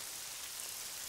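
Steady rain falls in an even, soft hiss that fills the scene, with no voices or other sounds standing out.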